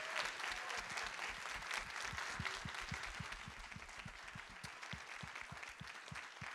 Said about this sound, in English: Can we give all of our panelists a round of applause?